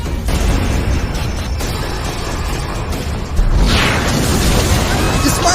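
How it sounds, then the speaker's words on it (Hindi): Dense booms and blasts from the One Punch Man anime fill the scene in a continuous loud barrage, with a sharper burst near the middle and debris-like crackle over a heavy rumbling low end. "यहाँ हर तरफ धमाके हो रहे हैं।"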